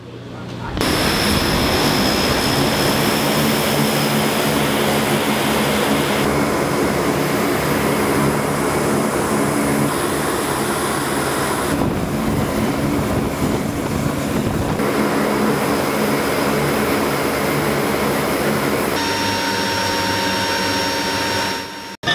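Military transport airplane engines running before a Canadian paratrooper jump, a loud constant droning hum with steady tones, continuous and close, with a brief drop near the middle and no talk.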